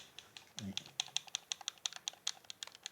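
The D-pad of an Xbox Series X wireless controller is pressed repeatedly, giving a quick run of sharp, close plastic clicks in an irregular rhythm, with a low thump near the start.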